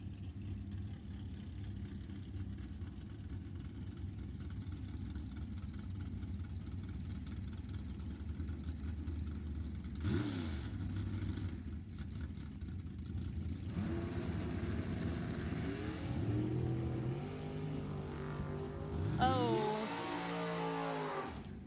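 A 99 Yancer Dragster and a 1973 Chevrolet Nova at a Summit ET bracket drag race at Sacramento Raceway idle with a low, lumpy rumble, then rev and surge sharply as engines climb in pitch near the end, with no talking.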